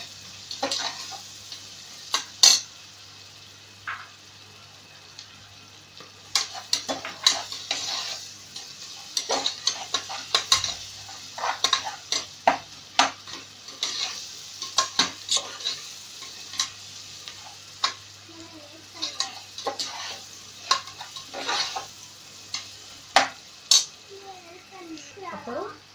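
Onions sautéing with salt in a pan for meal maker biryani, stirred with sharp clinking scrapes and ticks against the pan over a steady soft sizzle, with quieter stretches between bursts of stirring.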